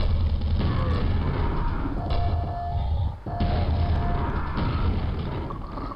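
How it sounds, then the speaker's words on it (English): Grenades exploding in the Quake video game, muffled heavy booms and thuds over a constant droning game ambience, with a sharp drop and renewed rumble partway through. "now I can probably safely lob some grenades there."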